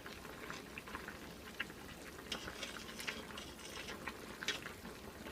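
A pot of hot and sour soup being stirred, giving a soft continuous bubbling simmer with faint intermittent liquid clinks and splashes, fairly quiet and with no talking.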